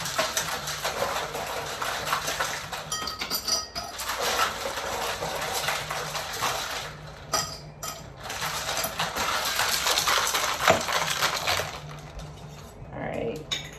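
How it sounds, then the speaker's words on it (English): A cocktail shaker full of ice is shaken hard while mixing a rye-based Black Eyed Rye cocktail, producing a loud, continuous rattling clatter with a few brief pauses. "So while I'm shaking, put ice in my glass."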